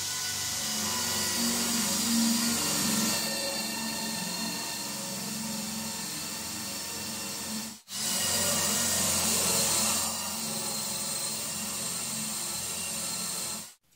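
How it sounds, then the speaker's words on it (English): Two holes drilled into a wooden board for guitar stand dowels: a steady whirring grind that runs for several seconds, stops briefly, then starts again for the second hole, moderately loud and close. "I'm going to go ahead and drill 2 holes in this that are 10 inches apart"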